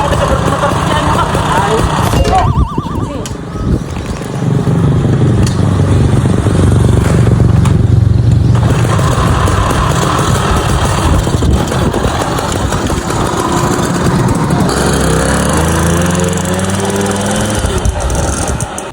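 A motorcycle engine runs nearby, idling and revving with a loud, steady rumble through the whole stretch, while people talk over it in a comedy sketch.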